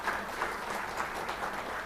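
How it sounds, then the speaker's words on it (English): Brief, steady applause from a business analytics conference audience, a soft, even patter of clapping with no voices over it. "So a full round of applause for Alka, Deborah, and Vikas, and the UPS team."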